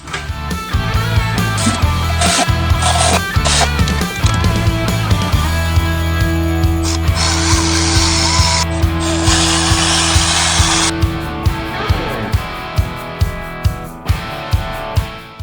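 Power tool tightening supercharger bolts on a 2025 Ford F-150 Coyote during a Whipple supercharger install, with repeated loud ratcheting bursts that give way to short, evenly spaced clicks toward the end.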